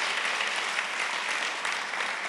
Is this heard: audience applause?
yes